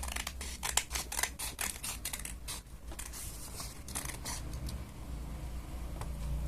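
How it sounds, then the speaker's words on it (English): Scissors cut through folded paper for a paper mask, a run of crisp close snips and crunches, dense and quick at first and then more spaced out, with no voices. "Let's fold this in half and just cut away and see what happens."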